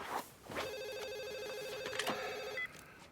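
A landline telephone rings with a warbling electronic tone for about two seconds, loud and close, after a few brief knocks and noises, with no talk over it.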